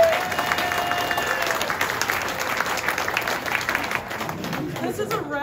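A lakeside luau crowd clapping along in rhythm while a bartender shakes a cocktail during a cocktail contest, loud sustained clapping with crowd noise and some talk mixed in.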